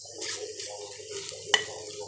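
Eggplant and tomato frying in a pan make a soft, steady sizzle that holds evenly throughout, with a single sharp clink of a utensil partway through.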